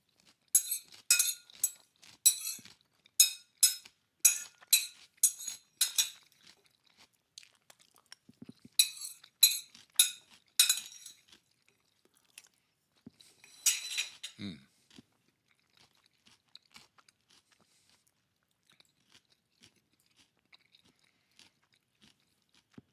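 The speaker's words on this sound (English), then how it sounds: "Last spoonful, ladies and gentlemen, and I won't bother you with my chewing anymore." Someone eats a last spoonful of food close to the mic: rhythmic bursts of crunchy chewing with small cutlery clinks, then a long near-silent stretch with only faint ticks and a few soft mouth sounds.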